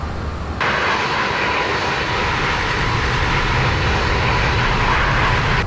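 Loud jet engine roar from a JAR Designs A320 with a CFM engine sound pack in X-Plane 11. A steady broadband rumble jumps to a fuller, louder roar after a moment and then holds constant throughout.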